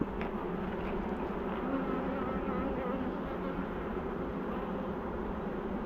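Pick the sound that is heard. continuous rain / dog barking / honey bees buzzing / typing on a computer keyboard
honey bees buzzing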